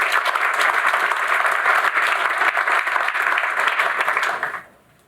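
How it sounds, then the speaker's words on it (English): An audience claps for competition judges at a technical SEO conference, a dense steady round of applause that cuts off abruptly near the end. "clap it up for them"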